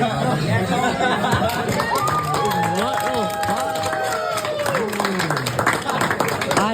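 Applause and lively chatter from a crowd of students in a school, steady and dense throughout with excited voices and shouts over scattered clapping.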